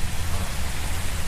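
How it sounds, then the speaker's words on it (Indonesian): Steady rain pours down in the Indonesian horror game Pulang Insanity, a dense, even hiss with a low rumbling bed, constant and close throughout with no voices. "Nah, hujan-hujanan nanti sakit."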